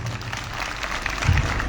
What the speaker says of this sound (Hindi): इनके लिए एक बार जोरदार ताली होनी चाहिए।